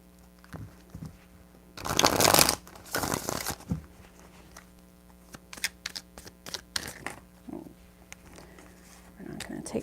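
A tarot deck is shuffled in several bursts, with loud riffling rushes early on followed by lighter card taps and handling sounds, while a voice speaks intermittently between them.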